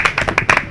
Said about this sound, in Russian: Спасибо, аплодисменты игроку номер